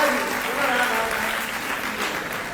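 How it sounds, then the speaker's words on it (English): Gathering at a Sri Bhagavata-saptaha religious event breaking into a big round of applause for a volunteer, loud steady clapping with voices beneath it. "Give a big round of applause for her."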